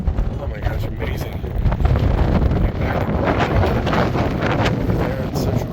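Strong wind buffets the microphone in a continuous, loud, rumbling roar with gusty surges, heard up close outdoors at a mountain summit near Central Crater on the Tongariro Crossing.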